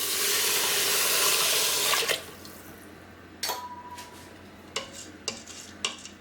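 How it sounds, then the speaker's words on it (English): Hot water poured into basmati rice seasoned with pink Himalayan salt in an Instant Pot, a loud steady stream for about two seconds, followed by several sharp clinks and knocks of kitchen utensils. "go ahead and add in your water. This needs to be hot water"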